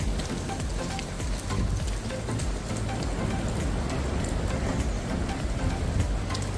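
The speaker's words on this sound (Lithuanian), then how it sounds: "Čia va tiesiai krioklys." A waterfall's steady, dense rush of falling water mixes with rain-like spatter, loud and continuous at close range, with no talking.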